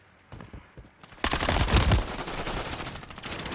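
Rapid automatic gunfire from the video game Modern Warfare 3, with a few scattered shots first and then a loud, dense burst of fire that keeps going at close range to the end.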